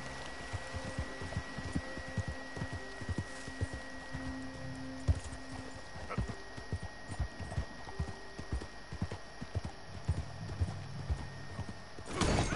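Steady clip-clop of horse hooves at a trotting pace in Red Dead Redemption 2, with a low hum and faint game ambience underneath; a brief whinny-like tone near the start.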